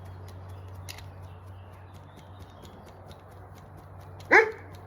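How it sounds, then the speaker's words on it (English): A single short dog bark rings out near the end, following a quiet stretch of steady low hum and faint background noise. "We've got Reggie in the background barking."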